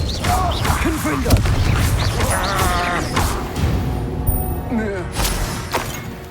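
A Confringo blasting spell from Hogwarts Legacy goes off as a sharp burst with a short bright crack. It lands among busy game effects and chatter, and a voice talks through the scene.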